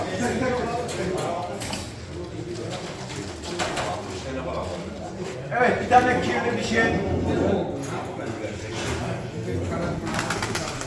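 Pigeons coo repeatedly in the background, soft and layered, while people talk over them in a busy crowd at a Turkish pigeon auction.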